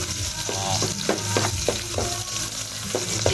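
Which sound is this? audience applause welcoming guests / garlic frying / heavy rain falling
garlic frying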